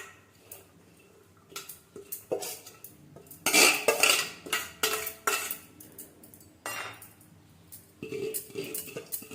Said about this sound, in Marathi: भाजी कुकर मध्ये टाकून घेऊया।